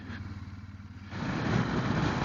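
A BMW R1200GS motorcycle engine runs close by, idling at a low rumble before the revs swell louder and rougher about halfway through, with no speech.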